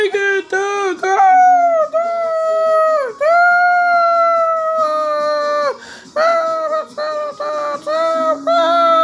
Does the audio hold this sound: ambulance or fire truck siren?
no